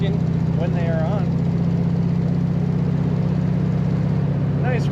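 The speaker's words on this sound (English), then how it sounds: "Nice rumble, the classic sound out of this car." Steady low rumble from a 1948 Ford Super Deluxe engine running at idle, close and continuous throughout, with a person talking over it.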